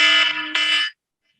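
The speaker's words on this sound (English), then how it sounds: "That's the alarm that I wake up to every morning" A loud, shrill electronic alarm tone blares in two bursts with a brief dip between, then cuts off abruptly into silence.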